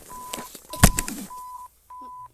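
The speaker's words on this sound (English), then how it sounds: "Today we're gonna be rating EAS alarms." An emergency alert system alarm sounds as a steady, piercing tone broken into long beeps, with a sudden loud burst of noise in the middle and brief silent gaps between later tones.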